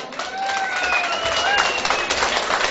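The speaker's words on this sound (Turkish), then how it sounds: "Böyle bir cevherle bir alkış" A crowd applauds at a village solidarity night in Amasya, with loud, dense clapping and a voice heard briefly over it.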